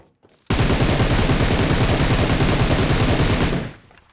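Gunfire in PUBG Mobile on the Erangel map, a single loud, sustained automatic burst of about three seconds with rapid, evenly spaced shots that starts abruptly and ends cleanly.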